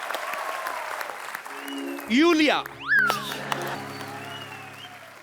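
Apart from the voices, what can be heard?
audience applause welcoming a performer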